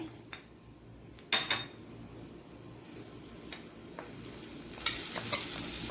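Crushed garlic and green chili frying in about two tablespoons of oil, a soft continuous sizzle broken by sharp scrapes and clinks of a spoon stirring the pan, close and fairly quiet.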